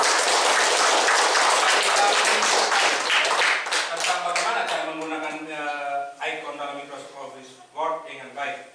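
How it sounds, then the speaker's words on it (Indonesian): A classroom of students claps together in loud, dense applause for about four seconds, then it thins out and a voice talks over scattered claps. "Oke, baik, tepuk tangan dulu."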